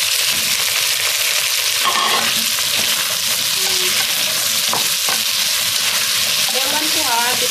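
Carrot and potato pieces sizzle steadily in a hot pan of oil for homemade sambar, a constant close frying hiss with faint stirring clinks and no talk.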